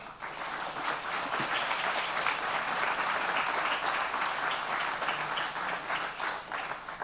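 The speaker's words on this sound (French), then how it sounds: "Je pense qu'on peut les applaudir." A room full of people clapping steadily, dense and sustained applause throughout with no talking.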